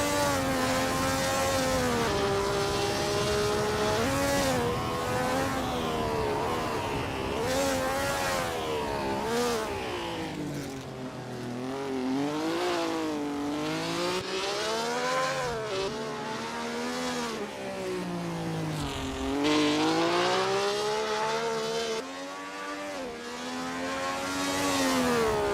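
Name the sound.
Maserati 250F 12-cylinder race car engine in Assetto Corsa video game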